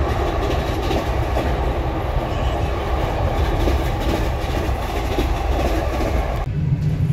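Steady rumble of a passenger train running on time between stops, continuous rolling noise and faint wheel clatter throughout, heard from inside the carriage with the seating area, dropping off sharply near the end.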